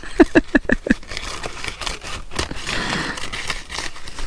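Scissors snip rapidly, trimming excess paper from a junk journal page, a quick run of five close crisp cuts, followed by rustling and crinkling of paper nearby.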